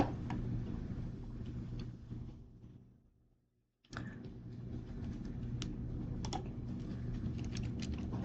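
Fingers typing on a computer keyboard, a steady run of quick clicks that stops briefly into silence, then resumes at the same busy pace.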